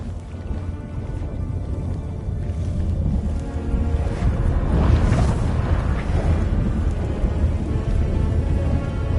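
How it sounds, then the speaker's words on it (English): A thunderstorm in the video game Witcher 3 rolls in with heavy steady rain and deep rumbling thunder that swells to a loud peak midway, continuous and without speech. "That a storm?"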